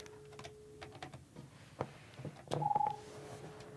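Telephone dialing tones during an Asterisk phone system test: a handful of quiet clicks and key taps, then a short run of rapid pulsed tones and a steady beep, faint and close.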